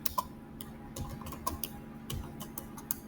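Code being typed on a computer keyboard, a close, quiet run of irregular sharp key clicks with short pauses between bursts.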